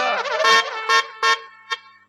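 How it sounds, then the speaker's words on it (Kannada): A vehicle horn honks loudly and close by: one long blare, then three shorter separate toots with brief gaps between them, with no talking over it. "ಹಾರ್ನ್ ಹಾಕಿದ್ದು"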